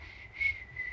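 A man whistles a short, thin, steady high note that swells briefly and fades, alone and close.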